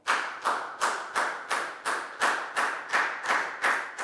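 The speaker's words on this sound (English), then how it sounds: "And a big round of applause for everybody doing a great job." Year 4 pupils in a classroom give a round of applause to the whole class, a steady run of about eleven crisp claps, near and evenly paced, with no voices over them.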